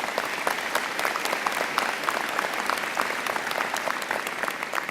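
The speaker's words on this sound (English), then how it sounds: "I think the Dean needs a round of applause." A commencement audience at the UIC College of Medicine 2014 ceremony applauds the Dean: dense, steady clapping from a large crowd, sustained at even loudness throughout with no talk over it.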